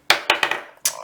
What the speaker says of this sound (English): So I'm just going to use a dice just to generate a number.